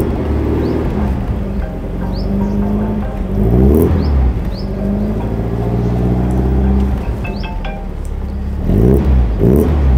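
A vintage Alfa Romeo engine revs at an outdoor concours d'elegance car show, rising and falling in pitch through several swells, with a brief spoken exclamation and a faint background whir.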